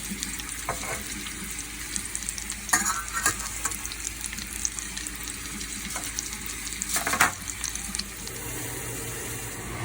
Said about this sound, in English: Add the onion and the chopped mushrooms. You go ahead and saute these in the butter